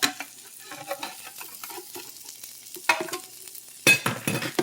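Shrimp burgers fry in a small pan, a steady close sizzle broken by scraping and stirring clatter, with two louder scoops or pan knocks near the end; no one talks.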